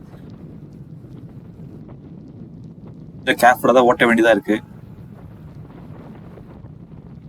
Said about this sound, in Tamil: அவ்வளோ காத்தடிச்சு கிடக்குது ஏர்லி மார்னிங் டைமில்